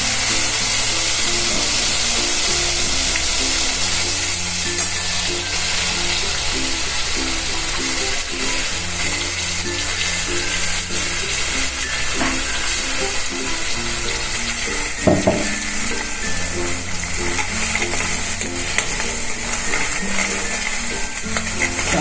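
Chili paste gravy sautéing in hot oil for dum aloo, a steady broadband sizzle running throughout with a low repeating hum beneath and one brief clatter midway, no voices.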